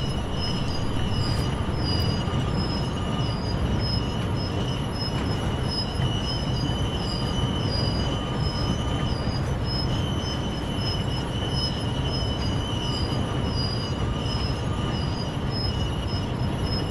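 Continuous rumbling train noise from a Great Western Express train in Train Sim World, with rhythmic high-pitched wheel squeals repeating throughout, steady and loud, with no talking over it.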